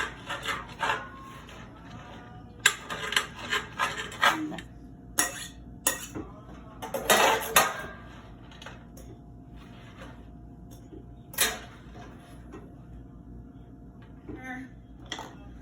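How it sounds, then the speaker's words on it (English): A knife runs through dried cranberries on a wooden cutting board, giving scattered short chopping knocks and scraping rubs at close range. Kitchen clatter and background noise continue underneath, and no one speaks. "I'm going to run my knife through these dried cranberries."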